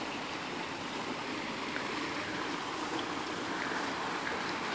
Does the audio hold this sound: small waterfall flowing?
yes